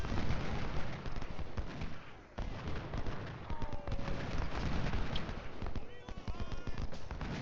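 Volleys of musket and artillery fire from the Ultimate General: Civil War battle game crackle and boom densely throughout, a continuous rumbling barrage with sharp repeated reports.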